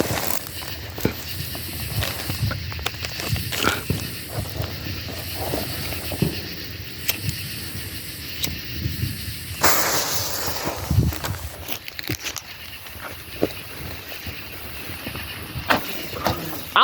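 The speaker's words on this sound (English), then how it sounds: "Here is a color pearl firework." A lit color pearl firework burns with a continuous hissing fizz, punctuated by repeated crackles and small pops at a moderate distance, with a brighter burst near the middle and no talk.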